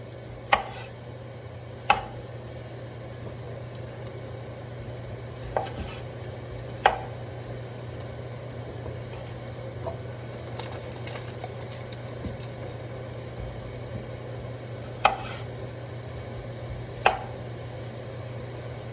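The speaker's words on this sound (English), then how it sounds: "we're just chopping potatoes right now" A knife cuts baby potatoes on a board, making sparse, sharp chops spread out over a steady low hum.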